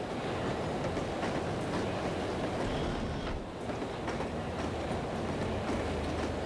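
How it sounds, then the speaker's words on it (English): Moving train in the video game No One Lives Forever: a steady, loud rumbling roar of wheels on rails with faint rhythmic clatter, continuous and unbroken. "we are on a moving train"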